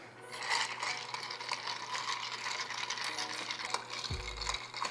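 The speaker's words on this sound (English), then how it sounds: "So now I'm gonna grab my bar spoon and we're gonna stir it." A bar spoon stirs ice in a Vesper cocktail, giving soft, continuous clinking and rattling of ice against the glass, fairly quiet and close, with no speech.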